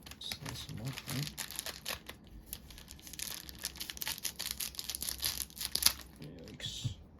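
Weiss Schwarz trading card booster packs cut open by hand: crisp foil crinkling and tearing rustles in quick bursts, close to the listener, with a person talking over them.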